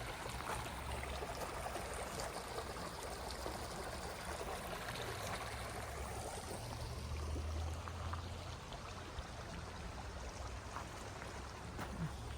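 Water flows steadily from a decorative fountain at a home, producing a continuous, fairly loud rush and splash with no pauses and no voices.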